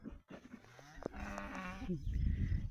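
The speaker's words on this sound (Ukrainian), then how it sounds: "Коровка." A cow moos once in a long, drawn-out low call on a homestead, fairly close and clear, with faint rustling background noise and no talking.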